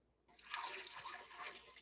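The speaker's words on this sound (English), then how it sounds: "and then pour your milk in." Milk pours into a blender cup already holding strawberries, a soft, continuous liquid splash that starts suddenly and keeps flowing, close and fairly quiet.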